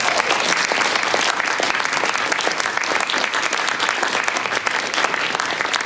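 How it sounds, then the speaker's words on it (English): An audience at a symphony concert at the Harvard & Smithsonian Center for Astrophysics gives a loud, continuous round of applause, dense rapid clapping filling the whole stretch. "Let's give a round of applause."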